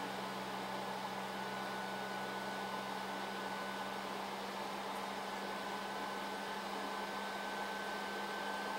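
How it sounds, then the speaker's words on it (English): A PS4 console fan whirs loudly and steadily close by, a constant airy roar with a faint hum and no change in level for the whole stretch, and nobody talks. "my PS4 is blowing up."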